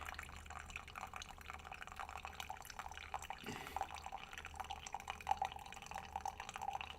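Water poured in a slow circular stream over coffee grounds in a filter, with a faint steady trickle and small, bright drips scattered through, quiet and close.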